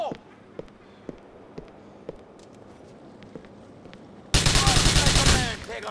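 Gunfire in a GTA 4 shootout: a few sharp, scattered shots ring out at a distance, then a loud, close burst of rapid automatic fire erupts near the end.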